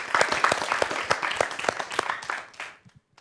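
An audience in a hall breaks into applause, a dense flurry of overlapping claps that holds steady, then thins out and fades to silence near the end.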